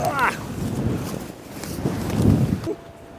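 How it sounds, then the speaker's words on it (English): Strong wind roars and buffets across the airport ramp at Reykjavik, Iceland, as a close, rushing gust that swells and then drops away, with voices heard faintly under it. "Welcome to Iceland, where it's windy!"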